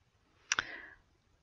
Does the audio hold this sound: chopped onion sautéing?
no